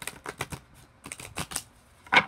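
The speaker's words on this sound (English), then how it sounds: "it'll shuffle the long ways" An oracle-sized tarot deck is shuffled lengthwise in small hands, giving a quick series of crisp card riffles and clicks in short bursts, ending with a louder flurry, close and without talking.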